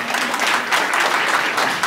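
A crowd claps at a Sathya Sai Baba 97th birth anniversary celebration in Jagtial: steady, dense, loud applause that holds without a break for the whole stretch, with no voices over it.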